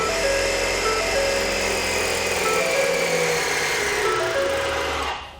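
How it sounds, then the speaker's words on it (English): Air Lift Load Controller II onboard air compressor for helper springs running steadily after switching on, a continuous close mechanical whir with a droning hum that holds for about five seconds and then cuts off. "I'm going to let all the air out and turn the key on, and you'll hear the compressor kick on."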